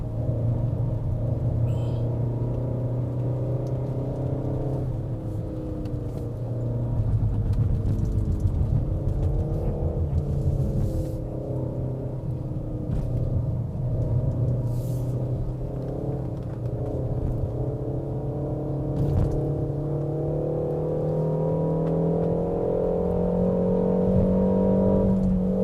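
Peugeot 5008 seven-seat turbo SUV climbing a wet hill road, its engine droning steadily with rising and falling pitch as it shifts up through the gears, continuous and close throughout.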